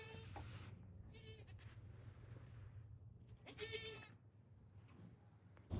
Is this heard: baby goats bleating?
yes